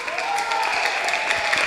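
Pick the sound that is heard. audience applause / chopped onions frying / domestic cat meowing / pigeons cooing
audience applause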